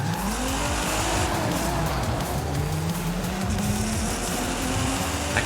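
A car engine in a video game, Forza Horizon 5, drones steadily with rising pitch as it accelerates, accompanied by constant road and tire noise, loud and uninterrupted.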